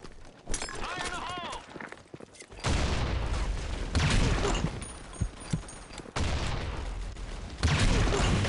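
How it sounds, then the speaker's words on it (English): A grenade explosion in an online video game lands as a sudden loud, wideband blast. It is followed by more heavy bursts of combat noise, each lasting about a second or two. "Grenade! Fire in the hole!"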